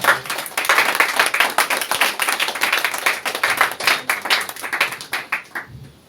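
A church congregation applauds the Lord together, with dense, steady clapping from many hands running loud and close throughout before thinning out at the very end.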